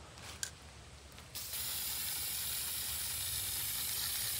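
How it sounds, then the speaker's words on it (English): A brief spritz near the start, then a steady, continuous hiss from a spray bottle over flowers that runs loud and even to the end, with no talking. "I just take a little bit of a spray"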